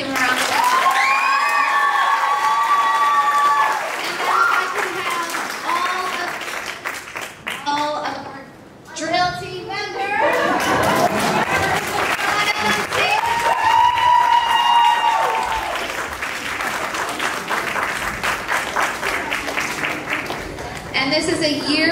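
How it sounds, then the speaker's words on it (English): An audience at a middle school drill team showcase claps and cheers loudly and steadily, with shouting voices and excited children rising over the applause. The noise dips briefly partway through, then swells again. "One more time, let's give them a round of applause."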